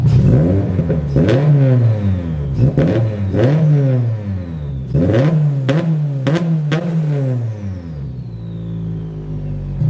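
A Subaru BRZ fitted with a titanium AFD exhaust, muffler in place and no resonator, revs repeatedly in a series of loud, deep throttle blips that rise and fall, then settles back toward idle.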